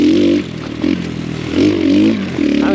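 An X Pro Storm 150 DLX small dual sport motorcycle rides a trail, its single-cylinder engine revving up and easing off in repeated surges, loud and close with the engine tone rising and falling.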